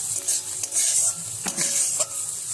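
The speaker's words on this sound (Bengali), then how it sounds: "ভাজা ভাজা পেঁয়াজ কুচির মধ্যে এবার লঙ্কা কুচিগুলো দিয়ে দেবেন দেওয়ার পর একটু ভালোভাবে নাড়াচাড়া করে নেবেন" Chopped onion and green chilli stirred in a frying pan, a spoon scraping and clinking against the metal over a steady close sizzle, with a few distinct stirring strokes.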